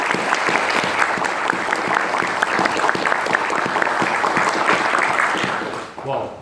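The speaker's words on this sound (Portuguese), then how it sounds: "Mais uma salva de palmas para o nosso professor." A seminar audience claps for a professor, dense sustained applause close by that carries on for several seconds and then fades out quickly, with a voice briefly audible underneath.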